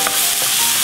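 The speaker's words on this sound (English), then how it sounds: "We're now going to add roughly a 1/4 cup of chopped up sun-dried tomatoes. Mix that around a little bit." Chopped sun-dried tomatoes stirred in a hot pan, a loud, close, continuous sizzle with the scrape of the stirring, no voices.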